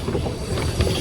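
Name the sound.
boat ride on the Terengganu River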